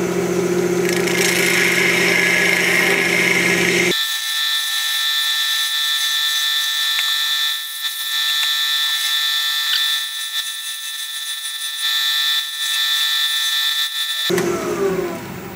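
A wood lathe spins steadily while a spindle gouge cuts a small Christmas mushroom ornament, giving a continuous high whine with bright tonal lines. A louder burst of cutting noise opens and closes the passage. No one speaks.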